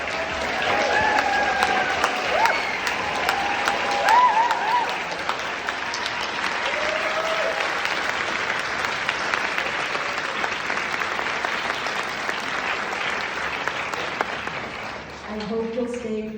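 A cinema audience at a film premiere gives the crew a long, sustained round of applause, a thick wash of clapping with some voices mixed in, fading toward the end as a person starts speaking.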